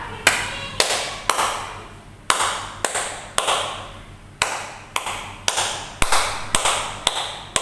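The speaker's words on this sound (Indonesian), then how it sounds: "Kita coba sekali lagi ya, kita ulang. Tepuk pramuka." Scout clapping pattern (tepuk pramuka) performed by hand, a sharp, close rhythmic sequence of claps grouped in a repeating beat, with no talking over it.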